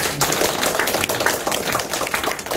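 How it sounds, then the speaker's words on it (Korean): A church congregation at a Sunday worship service claps loudly and densely in welcome, a close, steady burst of many hands with no talk over it. "그래서 또 박수로 환영할게요."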